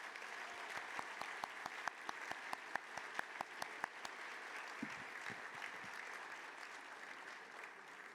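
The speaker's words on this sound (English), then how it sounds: "Let's give them all a big round of applause." Audience applause at an anniversary gala fills the room, steady and moderately loud, with sharper individual claps standing out early before it thins into softer, sustained clapping.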